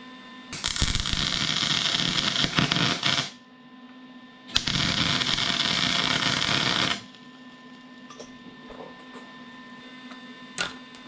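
Gas-shielded solid-wire welding on a John Deere 450 track loader: two bursts of harsh buzzing crackle, each about three seconds, separated by a short pause, over a low steady machine hum.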